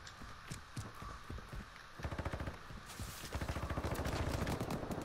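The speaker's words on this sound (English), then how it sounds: "I feel like I hear gunshots." Rapid bursts of video-game gunfire crackle through a firefight, starting as scattered shots and building into dense, fast volleys that grow louder and closer toward the end.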